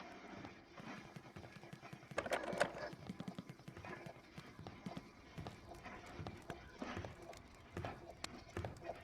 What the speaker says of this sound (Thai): นี่คือเสียงแม่มดเดินมาครับ